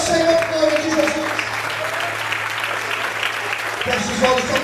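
A church congregation applauding during a worship service, sustained clapping from many hands mixed with voices and a held musical tone underneath.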